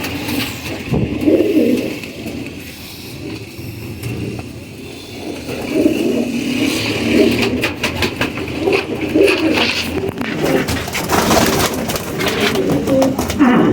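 Teddy pigeons cooing in a loft, soft repeated low coos up close, with a car revving in the background and people talking.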